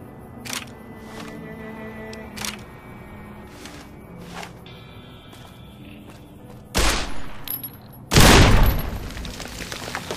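Gunshots in the Fallout New Vegas video game, with scattered sharp clicks and reports followed by two loud booming blasts as landmines are shot and explode near the end.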